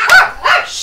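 Two loud, close dog barks in quick succession, sharp and slightly yelping, with no talking.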